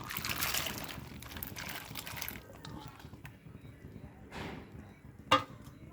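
Cluster beans go into a pan of water on the stove, with soft liquid sloshing followed by a couple of sharp splashes and clinks near the end; a voice is faintly present.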